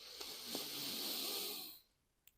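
A slow inhale during a gentle yoga flow, a breathy rushing sound that swells and holds close to the microphone, then cuts off into near silence.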